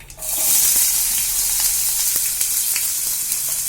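Cumin seeds, curry leaves and onion dropped into hot oil, a close, bright hiss of frying that flares up at once and holds steady with faint crackles and stirring.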